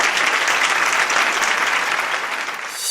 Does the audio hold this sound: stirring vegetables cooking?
no